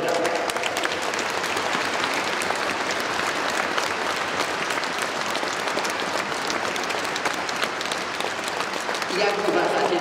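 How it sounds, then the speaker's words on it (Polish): A New Year's concert audience in the Church of Divine Providence applauds steadily and densely for the whole stretch, a continuous wash of many hands, with a voice faintly audible near the end. "Drodzy brawa."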